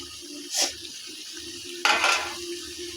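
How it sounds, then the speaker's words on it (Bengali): Jackfruit curry with chili is stirred and sautéed in a pan, giving two brief sizzling, scraping bursts against a quiet low hum. "এই তো সুন্দর করে এখন কাঁঠাল তরকারিটা কষিয়ে নিব"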